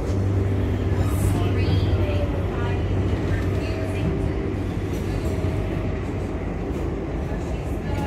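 A Long Island Rail Road train in New York rumbles steadily with a deep, continuous low roar and rail hum, loud and close throughout, with faint voices mixed underneath.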